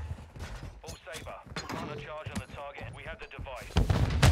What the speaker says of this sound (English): Yeah, they're sniping, but he missed.